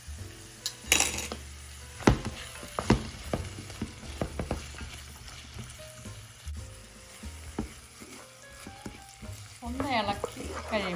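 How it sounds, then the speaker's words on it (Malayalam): Two finely chopped medium onions sizzle in hot olive oil with a little salt for shakshuka, a steady close frying hiss broken by sharp clinks and scrapes of a utensil stirring against the pan. "ഒലിവ് ഓയിൽ ചൂടായിട്ട് വന്നിട്ടുണ്ട്. അതിലേക്ക് സാമാന്യ വലിപ്പമുള്ള 2 സവോള ചെറുതായിട്ട് നുറുക്കി ചേർത്തിട്ടുണ്ട്."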